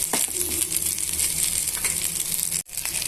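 Curry leaves, garlic and dal frying in a pan for a tiffin-centre style chutney, giving a dense, steady, close sizzle with a brief cut near the end.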